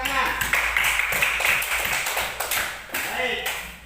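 A group in a classroom claps hands in a short burst of sharp, distinct claps, with chatter and voices mixed in throughout.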